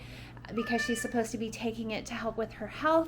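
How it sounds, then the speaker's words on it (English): A pet cat meows loudly and insistently, wanting to be let outside, with several drawn-out cries heard beneath a person talking nearby. "That is our cat. She just wants outside, and she screams all day long"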